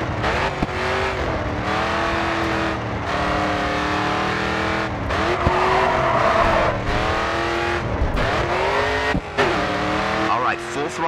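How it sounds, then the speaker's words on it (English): A race car engine roars at full throttle in the GRID 2 racing game on a final straight, with a loud continuous drone rising and dropping through repeated gear shifts. Someone talks over it throughout. "All right, full throttle now, coming onto the final straight."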